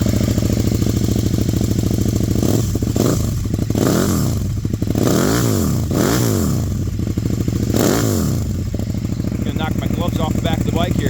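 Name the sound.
2015 KTM Super Duke motorcycle aftermarket exhaust idling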